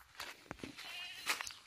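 Sheep kept on a raised-platform farm let out a few short, faint bleats, scattered over a quiet background.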